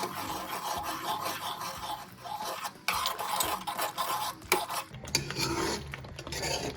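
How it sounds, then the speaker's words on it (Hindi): A spoon stirring cornflour paste into chicken manchurian in a cooking pan, making steady scraping and rubbing sounds with occasional clinks of metal against the pan, close and continuous. "अब इसको हिलाते हुए डालेंगे।"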